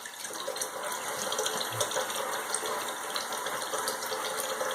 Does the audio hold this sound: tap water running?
yes